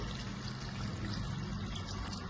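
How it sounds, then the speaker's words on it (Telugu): A glass of water pours steadily into a pot of chicken curry, a short, continuous gushing splash without pause. "ఒక గ్లాస్ వాటర్ వేసుకోవాలండి"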